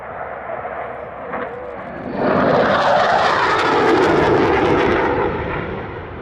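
A classic Hornet fighter jet flies past at an airshow in Australia. A loud, broad jet roar swells in fast and holds as a rushing, sustained blast before starting to fade, with no voices over it.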